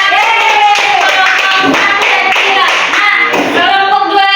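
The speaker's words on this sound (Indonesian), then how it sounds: "Ya, tepuk tangan." A classroom of students claps hands together, a loud, dense run of claps continuing steadily with no talk over it.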